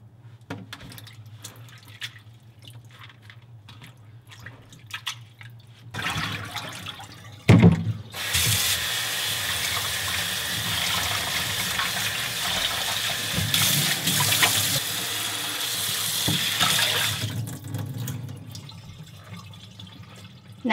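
Soybean sprouts are rinsed in a kitchen sink under a running faucet: a steady, close rush of tap water with splashing and dripping that swells midway and lasts most of the stretch, with no talking.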